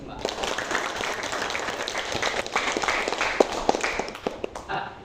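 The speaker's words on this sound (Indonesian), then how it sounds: "Tepuk tangan buat kita semua." Classroom applause from students after a short English role-play lesson, a steady wash of many hands clapping with sharper claps near the end, under a speaking voice.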